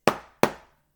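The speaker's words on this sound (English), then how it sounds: "We don't want it to sound like this." Two snare drum strokes struck clearly apart, a poorly played flam: two sharp, separate cracks about a third of a second apart, each ringing briefly, close and loud.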